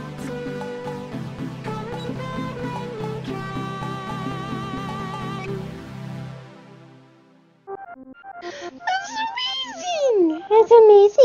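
Video game Art Sqool: cheerful game music plays, then stops, and a cartoon cat meows repeatedly in loud, sliding, whiny cries.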